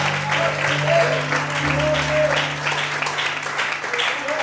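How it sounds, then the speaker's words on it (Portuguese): A church congregation claps loudly together during an evening worship service, a dense, steady wash of hands that swells and holds throughout, with sustained music or organ tones underneath. "Mais forte as palmas da Deus"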